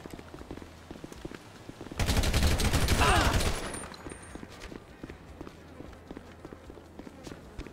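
Rapid automatic gunfire rattles in a loud burst of about a second and a half during a GTA 5 firefight, with quiet footsteps and clicks before and after.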